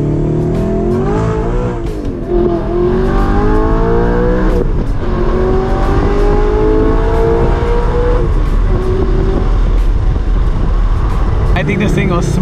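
A manual Audi R8 V8 with a loud exhaust revs and accelerates while driving, its engine note rising and falling through gear changes, heard loud and near from inside the car with someone talking over it.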